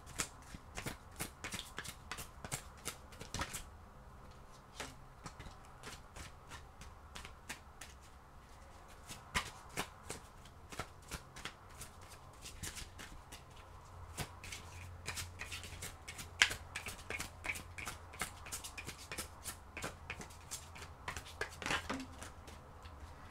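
New tarot cards being shuffled by hand, a quiet run of quick riffling flicks and soft slaps in irregular bursts, close and alone.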